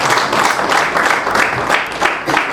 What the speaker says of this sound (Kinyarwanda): Umuha amashyi cyane.